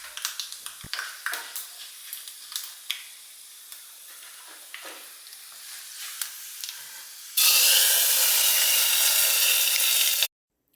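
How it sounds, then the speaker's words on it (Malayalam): Mustard seeds, dried chillies and fenugreek crackle and pop in hot coconut oil, scattered sharp pops at first, then a sudden loud steady hiss as the tempering hits the curry, stopping abruptly. "ഇനി വെളിച്ചെണ്ണയിൽ കടുക്, വറ്റൽമുളക്, ഉലുവ അത് താളിച്ച് ചേർക്കുകയാണ്."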